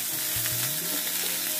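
Cauliflower pieces sizzle steadily in hot oil in a wok, a dense, even frying hiss with no voices.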